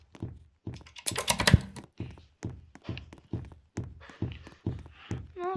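Computer keys are tapped in a steady series of close, clicky strokes while typing a chat message, with a brief burst of busier clatter partway through.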